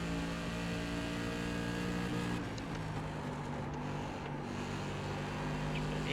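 An SK Modified race car engine in the iRacing sim, a steady loud drone of high revs with tonal harmonics shifting slightly as the car lifts and gets back on the throttle, alone without talk.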